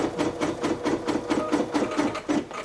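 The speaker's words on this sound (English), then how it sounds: "Let it finish sewing right to the end." An embroidery sewing machine stitches in a fast, steady mechanical rhythm, its needle thumping about five times a second, close and continuous throughout.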